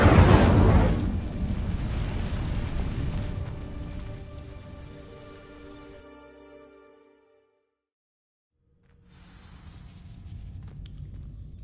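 Incendio fire spell in Hogwarts Legacy bursting into a loud roaring whoosh of flame over dry vines, crackling and fading over several seconds to near silence, then a low ambient rumble returns.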